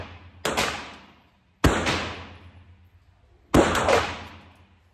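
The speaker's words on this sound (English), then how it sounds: "This was my first shots with the X-Calibur, and as you can see, there was very little muzzle flip." Three sharp pistol shots from a Grand Power X-Calibur at a shooting range, each a loud crack with a decaying echo, spaced about a second or two apart.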